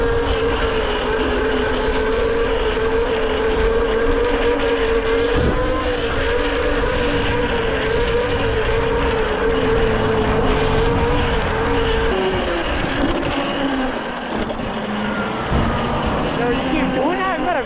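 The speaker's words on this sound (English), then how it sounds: "Now I can wheelie effortlessly, going 20 miles an hour, and now I got more torque than ever." A tuned Yozma motorcycle engine holds a steady, loud drone at around 20 miles an hour during a wheelie, with a continuous close hum, wind rush and a slight drop in pitch near the end.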